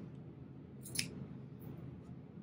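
Scissors trimming fabric while sewing a mini backpack make one brief, crisp snip at close range over a low, steady room hum.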